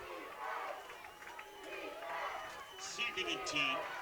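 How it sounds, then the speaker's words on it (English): A women's football game crowd rising into a rhythmic defensive chant, broad and reverberant across the stands, swelling toward the end with higher shouts mixed in. "the crowd starts to get the defensive chat going again"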